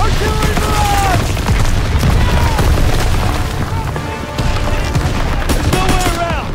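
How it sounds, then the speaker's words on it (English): Artillery barrage explosions pound a video-game battlefield during a hill assault, a loud continuous roar of booms and gunfire with shouted voices over the din. "Artillery barrage!"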